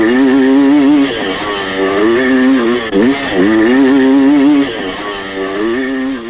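Vintage Yamaha DT2MX two-stroke motocross bike ridden at a riding school, its engine revving up and down in loud, continuous waves, wavering pitch as it accelerates and backs off, close by with no voices.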